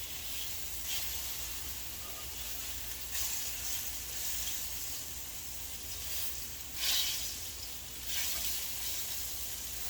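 Plantain frying in a pan of oil, a steady soft sizzle and crackle with occasional louder spatters as pieces are turned, heard close and without talk.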